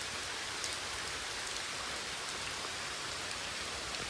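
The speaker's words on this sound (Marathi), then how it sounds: "इथं पाऊस अजून सुरूच आहे" Steady, dense rain falling continuously, a constant hiss of drops on surfaces with no voices.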